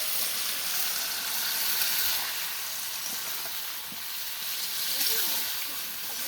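Water poured into a spice paste for a mutton curry sets off a continuous hissing sizzle with faint stirring, close up and fairly quiet, with no one talking over it.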